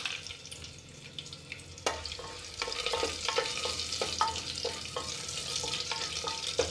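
Almonds frying in a pan for vegetable biryani, with a steady low sizzle and clinking stirs and scrapes from a spoon repeating through the clip, close and fairly quiet.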